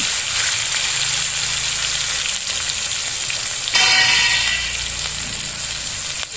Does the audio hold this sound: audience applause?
no